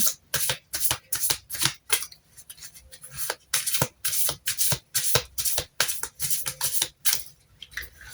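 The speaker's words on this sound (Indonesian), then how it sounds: "Oke, kita shuffle lagi." Tarot cards being shuffled by hand in quick repeated riffling bursts, close and crisp, with short pauses between flurries and no talk.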